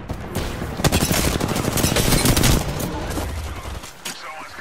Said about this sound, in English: Knuckle clusters firing.